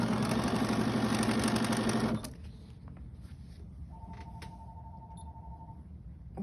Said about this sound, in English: we've loaded the embroidery machine, we've stitched the batting placement line